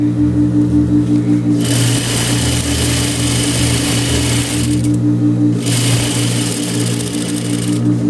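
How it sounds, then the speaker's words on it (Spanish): Sewing machine stitching the collar of a made-to-measure shirt blouse, running in steady loud bursts with a fast mechanical whir and a constant low motor hum between stitching runs. "así es que vamos a empezar a coser desde acá, también tratando de no pisar la entretela"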